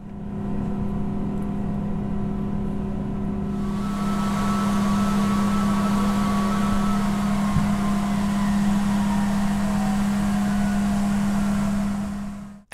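Engines of an Airbus A321neo airliner winding down after landing, a steady loud whine with a strong sustained tone and a broadband rush that swells partway through, then stops abruptly at the end.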